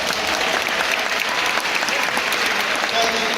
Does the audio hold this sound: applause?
yes